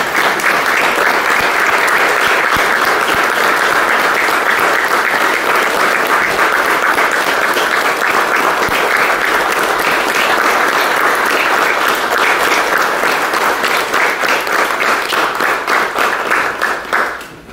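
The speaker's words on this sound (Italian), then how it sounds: "Io farei un applauso" Steady, loud audience applause at a public meeting on school and culture in Locri, a dense unbroken wash of clapping lasting well over fifteen seconds before fading out at the end.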